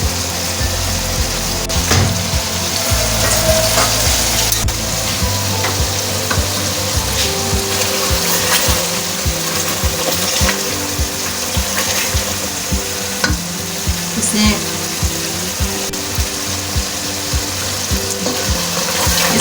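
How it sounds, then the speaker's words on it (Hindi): Aloo gosht masala frying in oil, a steady loud sizzle running throughout with spoon scrapes and stirring knocks mixed in, no voices. "इसको तब तक भूनेंगे जब तक ये ऑयल छोड़ दे"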